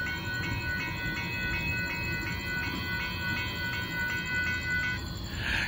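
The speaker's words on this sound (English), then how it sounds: "Northbound Union Pacific Intermodal featuring CN8868S1 to 2 mid DPUs." Northbound Union Pacific intermodal freight train with CN and UP mid-train DPUs passing a crossing: continuous rolling rumble with regular rhythmic clacking of wheels over rail joints, fairly close and steady, with no talking.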